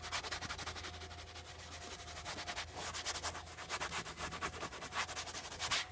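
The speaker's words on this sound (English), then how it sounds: "I'm not gonna push all my strength into this and try to damage the leather, but I'm just gonna scrub just like this." A non-abrasive scrub pad worked back and forth over a leather car seat lathered with Meguiar's all-purpose cleaner, giving soft rhythmic swishing strokes, close and steady, with no talking.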